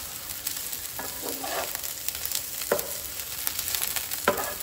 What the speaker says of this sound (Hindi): थोड़ा सा ब्राउन होने तक हम इसे इसी तरह से फ्राई करके लेंगे